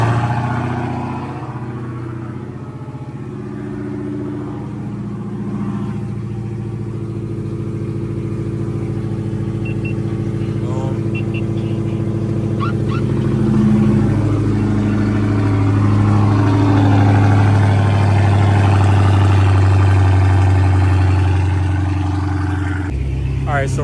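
A car engine in a high schooler's newly bought dream car, its check engine light on, runs and revs across a long stretch, a steady mid-pitched drone that swells louder toward the end, with talk over it.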